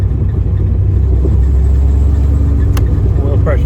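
A Camaro with a freshly built forged 6.0 V8 drives along, its deep engine drone loud and steady throughout with a low rumbling exhaust, and a person talks over it.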